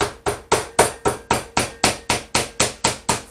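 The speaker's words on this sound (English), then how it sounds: "I'm going to attempt to hammer it out flat." A flat-faced meat tenderizer hammer pounds covered chicken flat on a board, landing about a dozen steady, evenly spaced thuds, each a sharp close smack with a quick decay.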